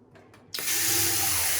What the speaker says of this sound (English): And this is your tap.